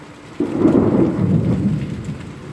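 A loud, near thunder rumble rolls in suddenly and sustains through a storm in Queensland, with steady rain falling underneath and no voices.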